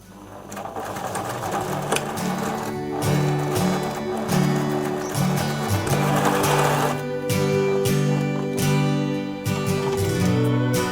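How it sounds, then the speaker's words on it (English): Sewing machine stitching across the corner of a knit shift dress, running in steady bursts with short pauses between runs, close and clear throughout, with little else around it. "I'm going to sew across here"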